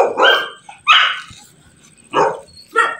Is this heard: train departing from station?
no